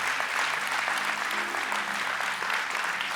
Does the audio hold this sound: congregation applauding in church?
yes